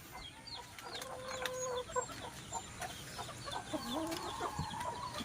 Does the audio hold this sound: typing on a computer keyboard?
no